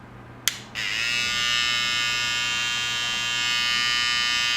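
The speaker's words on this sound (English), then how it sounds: "let me just do a quick sound test of the trimmers. So this is the BaByliss FX" A BaByliss Boost+ FX hair trimmer with a 7,200 RPM brushless motor clicks on after a moment of quiet, then hums with a steady high buzz close up.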